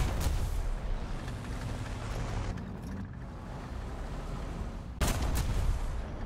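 A Panther II tank cannon fires twice in War Thunder, each shot a sharp, loud, booming blast with a short ringing tail. The first comes at the start and the second about five seconds later, over a steady rumbling engine bed.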